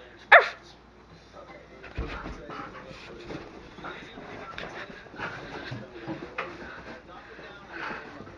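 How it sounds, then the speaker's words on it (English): A dog gives one sharp bark, then low growling and grumbling continues through the rest, with a person talking nearby. "Stop growling, just bark"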